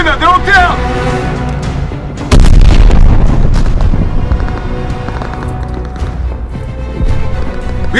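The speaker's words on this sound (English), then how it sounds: "We are getting shot from above" Heavy gunfire and a sudden loud blast in the Call of Duty Vanguard Stalingrad battle, booming bursts and rattling shots mixed with voices and battlefield clatter, strongest from the middle onward.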